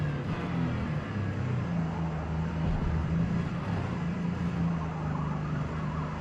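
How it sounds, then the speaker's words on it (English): A V8 car engine in Forza Motorsport drones steadily and loudly throughout, with a low rumbling pitch that shifts slightly, and no voices. "there's a lot of detail in this V8 noise too"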